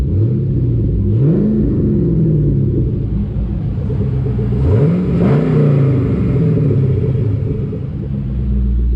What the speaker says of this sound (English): Give a couple of revs.